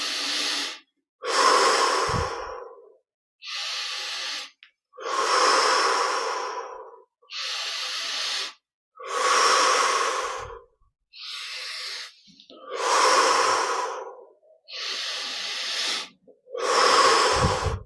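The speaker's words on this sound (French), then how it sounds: "on va prendre encore 10 respirations pour bien sentir les effets de ces grandes" Deep, slow breaths during a guided meditation, about ten long inhales and exhales in a steady rhythm with short silent pauses, close and clear with no talking.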